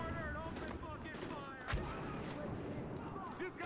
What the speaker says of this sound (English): Who's shooting me? I don't even know.